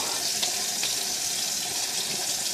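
Water runs steadily from a tap into a sink, wetting a face before a straight razor shave; a continuous close splashing hiss with no pauses.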